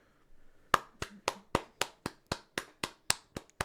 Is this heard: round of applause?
yes